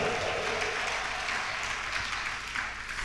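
A church congregation applauding during a Sunday service, steady dense clapping filling the room for the whole stretch, fairly loud and even with no clear talk over it.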